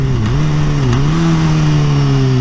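A 1000cc motorcycle engine revs hard as the clutch is dumped. The steady, loud mid-pitched growl dips briefly twice as it bogs, then holds a smooth, even drone close to the microphone.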